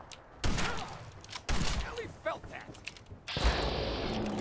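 Firefight in the video game Fallout 4: several loud, broadband bursts of gunfire and clattering weapon mechanisms arrive in clusters, the last burst sustained and dense.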